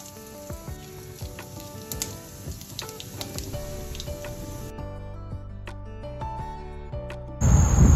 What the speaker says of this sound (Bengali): এবার পাশের ওভেনে আমি এখানে ডালটা ফোড়ন দিয়ে নিচ্ছি